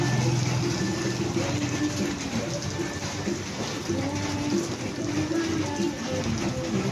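Heavy rain pouring steadily in Lebak, Sultan Kudarat, a dense continuous roar with low rumbling underneath, loud and unbroken throughout.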